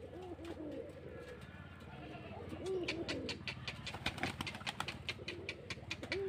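Rajshahi Giribaj pigeons coo in a loft, with repeated soft, rolling calls close by, followed by a run of sharp clicks and flutters that may be wings or feet in the loft.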